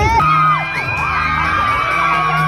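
A crowd at a concert in Japan shouts and whoops before the show starts, with several high voices rising and falling in overlapping calls, loud and close.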